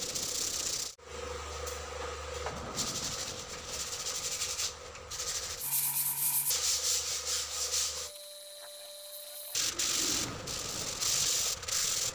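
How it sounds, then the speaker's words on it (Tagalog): Fine sandpaper rubs over a varnished wooden front door in steady, scratchy strokes, close and continuous, with brief pauses and shifts in pitch between passes and no voices. "Nagamitan ko na siya ng pinong liha."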